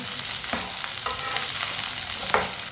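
Okra roasts in a pan with a steady frying crackle and a few spatula scrapes at regular intervals, close and moderately loud, without speech.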